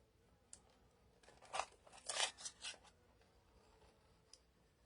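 Scissors trimming paper during a crafting session, a few soft snips and crinkles clustered together in quiet surroundings, with no talk.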